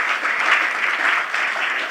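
Audience applause for the panel members at the close of a GHIPCON 2024 conference session: steady, dense clapping from a sizeable crowd, even in level throughout with no pauses.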